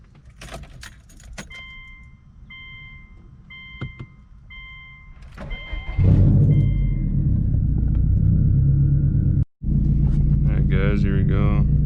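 A 2005 Subaru Legacy GT with a built engine cranks and fires up after keys jangle and dash chimes sound, then settles into a loud, steady idle rumble close by, briefly cut off once before continuing.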